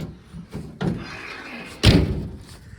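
Door of an old military ambulance, sitting unused for over 15 years, being worked: a few lighter metallic clunks and handling noises, then one loud, close slam shutting the door with a ringing rattle that fades.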